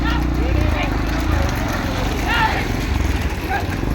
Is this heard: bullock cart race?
yes